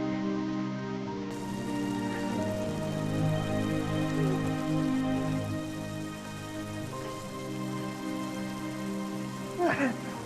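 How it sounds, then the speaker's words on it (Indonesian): Heavy rain falls steadily on a surface, a dense continuous wash that holds even and loud throughout, with a brief sharper sound near the end and some talk faintly underneath. "Ini kayaknya hujannya makin deras deh nih"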